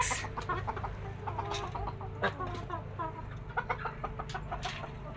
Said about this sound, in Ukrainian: Наглядаєш за курочками і качками?